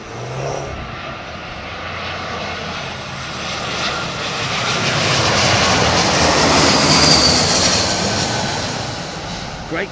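An airliner's engines roar during a landing in strong crosswind gusts of about 34 mph, the sound swelling louder toward the middle as the aircraft passes close, then easing slightly.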